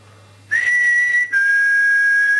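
A person whistles two sustained, piercing notes close by, the first starting abruptly and holding steady, then a brief break before a second long, slightly falling tone, with no talking.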